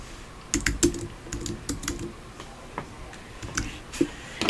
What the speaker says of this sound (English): go into text and type in Happy Mother's Day